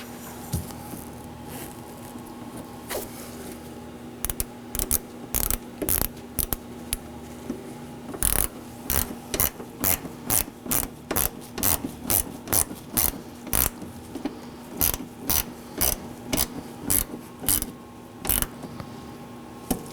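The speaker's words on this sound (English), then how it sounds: "Now I'm going to move along to the upper corner of my bumper to reinstall the T15 torque screw." A ratchet clicks in quick, regular bursts while a T15 Torx screw is tightened at the upper corner of a 2014–2019 Nissan Sentra rear bumper, close and crisp over a steady low hum, with no talking.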